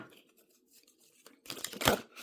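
Tarot cards being shuffled, a quiet start followed by a burst of crisp riffling and slapping card sounds, close and loud near the end.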